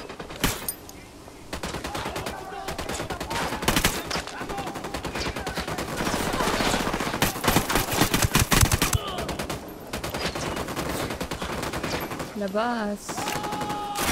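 Gunfire in a first-person shooter game, rapid automatic bursts and scattered shots running dense and loud across most of the span, with people talking over it and a brief electronic tone near the end.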